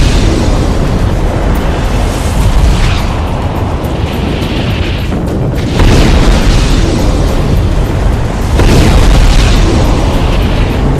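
Nuclear explosion sound effect: a massive, continuous roaring rumble with heavy low boom, loud and unbroken, swelling with fresh surges midway and near the end.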